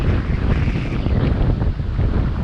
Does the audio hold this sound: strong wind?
yes